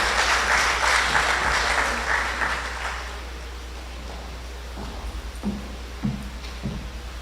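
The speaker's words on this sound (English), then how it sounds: "Please give him a round of applause" Applause from an audience at a pre-budget consultation meeting, loud clapping at first that fades, with a low steady hum and a few faint thumps and murmurs after.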